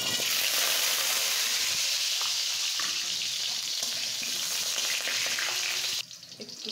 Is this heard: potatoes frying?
yes